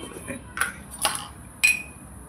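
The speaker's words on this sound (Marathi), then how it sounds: "छान असं हे परतवून घ्यायचं आहे" A spoon scrapes and taps against a pan while ground farsan mixture is stirred and roasted, three or four light clinks spread over a couple of seconds above a quiet background.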